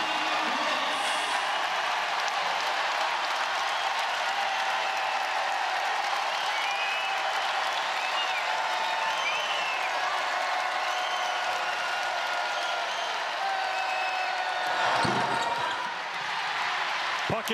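Basketball arena crowd at an NCAA women's championship game between Tennessee and NC State, roaring loudly and continuously with cheering, applause and a brief bounce or thud near the end, under a commentator's voice.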